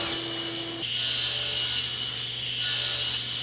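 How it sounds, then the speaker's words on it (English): A handsaw cuts wooden side table rails to length in steady back-and-forth rasping strokes, close and continuous, with no talking. "Now I'm just going to batch cut to length the back rail and the front top and bottom rails."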